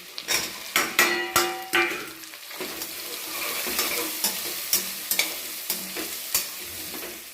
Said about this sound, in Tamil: வெங்காயம் பச்சை வாசனை போகிற அளவுக்கு நல்லா வதக்கிடணும்